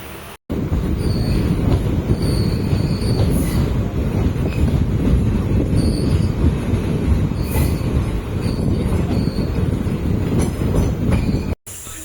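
A passenger train on the Erode to Jolarpettai line rolls steadily along the rails, heard from on board as a loud, continuous rumble with rhythmic wheel clatter and occasional faint squeals, no talking.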